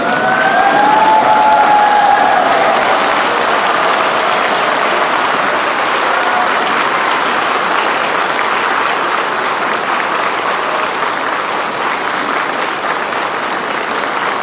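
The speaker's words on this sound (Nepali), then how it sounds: "अनि हामी सबैजना उठेर ताली बजाउँदै उनीहरूलाई बधाई टप्र्याउँ" A church congregation at a priestly ordination in Kalimpong claps together in sustained, dense applause, starting with a brief faint cheer and continuing evenly for several seconds as a large crowd sound.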